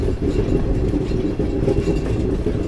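A diesel express train rolling into Edamon station on a loop line beside the right-hand platform gives a steady, loud rumble of wheels and carriages with faint rail clatter throughout.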